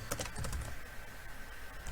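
A computer keyboard clatters with a quick run of close, crisp keystrokes as a username is typed during account sign-up, then falls away to a quiet room hum.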